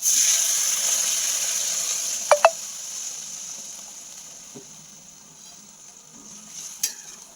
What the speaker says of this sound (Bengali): মেখে রাখা চিকেনটা দিয়ে দেবো, কষা হয়ে গেছে, গরম জল দিয়ে দেবো